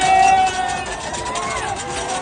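A dense crowd noise at a cricket victory parade near Marine Drive, Mumbai: continuous loud hubbub and babble of many voices with whistles or cheers, filling the whole stretch without pause.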